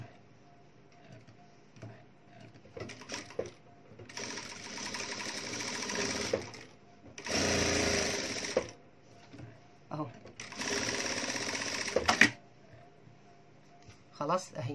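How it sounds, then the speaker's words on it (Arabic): A sewing machine stitches chiffon fabric in several short whirring runs of a few seconds each, between quieter stretches where someone talks. "هبدأ اخيط كده واسيب برضو جزء في النص"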